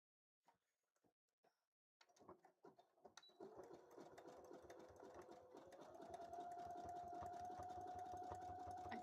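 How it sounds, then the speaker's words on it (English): Sewing machine stitching a zigzag seam on a cosplay costume piece: a few soft clicks, then a steady rapid mechanical whir that speeds up and holds, close and moderately quiet, with no talking. "I will finish it with a zigzag stitch because I don't have my serger"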